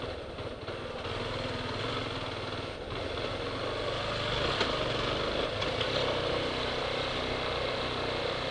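A motorcycle engine drones steadily while weaving through traffic on the way into Piracicaba, a continuous mid-pitched hum with wind and road noise, fairly constant throughout.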